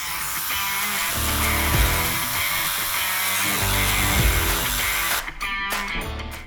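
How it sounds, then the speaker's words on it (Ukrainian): A jigsaw buzzes steadily through reinforced polyamide plastic at close range with a dense, rasping whine, then stops abruptly into a few rattling clicks. "Використовуємо пилочку Пластик експерт на п'ятірочки без маятника. Погнали!"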